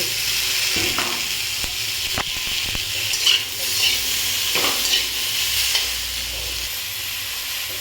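Cauliflower, potato and tomato curry frying and being stirred in a pan, a steady sizzle with intermittent scraping and clinking of a spatula, moderately loud and close, no talking.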